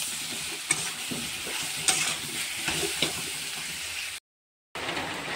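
Prawns fry in a pan with salt, giving a steady sizzle broken by several scraping stirs and a brief drop to silence near the end.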